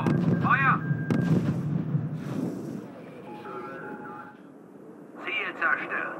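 Artillery fire in the strategy game RUSE, booming shots mixed with radio-style voice chatter and game sounds, fairly loud and up close.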